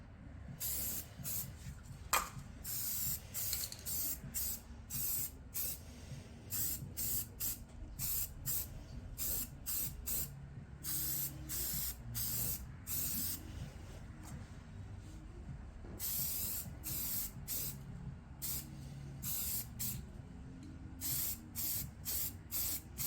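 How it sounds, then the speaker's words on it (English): An aerosol spray can hisses in repeated short bursts while paint coats a 1963-72 Chevy/GMC truck frame, the sharp sprays coming in an uneven rhythm, close and fairly quiet, with no talk. "someone needs to go back to spray painting school"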